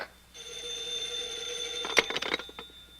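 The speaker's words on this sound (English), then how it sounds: "I'll get the phone." An old-fashioned telephone bell rings continuously with a bright metallic trill, fairly close and loud, followed by clattering handling noises as the ringing stops.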